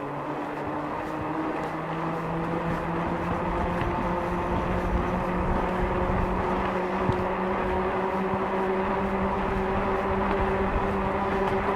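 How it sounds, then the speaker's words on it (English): Tyres of a Buzzraw e-bike roll along a road with the motor assistance off, giving a continuous, even hum with a steady tonal whine, close and unbroken throughout. "The sound I hope you can hear now is just the tyres."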